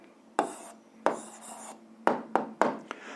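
Handwriting an algebra answer with pen on paper, heard as a few short scratchy strokes and taps in bursts, close and fairly quiet with no talking.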